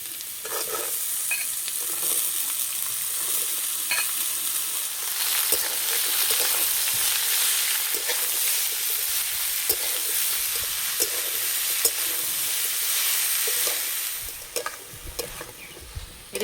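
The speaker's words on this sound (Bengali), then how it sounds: "এদিকে কুমড়োটা ভাজা হতে থাক" Ash gourd pieces fry in a pan with a loud continuous sizzle, broken by occasional stirring scrapes and clicks, easing off slightly near the end.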